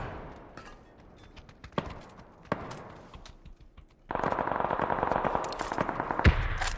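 Sparse single gunshots crack in PUBG, spaced seconds apart, then a denser burst of rapid fire with a loud sustained roar takes over in the last few seconds.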